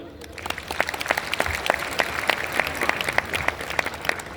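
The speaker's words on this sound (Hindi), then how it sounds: "बच्चों के लिए भी बहुत बहुत तालियां।" An audience at a ceremony in Bharat Mandapam applauds children, with a thick, lively burst of hand clapping and sharp individual claps standing out, loud and continuous throughout.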